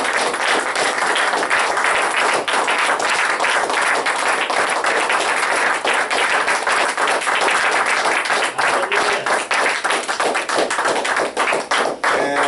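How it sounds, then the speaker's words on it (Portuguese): A church congregation bursts into steady, dense applause following a closing prayer, the clapping filling the whole stretch at full strength with only slight thinning toward the end. "Uma salva de palmas para Jesus."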